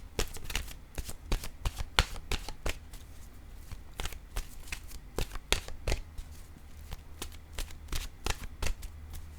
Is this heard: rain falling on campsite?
no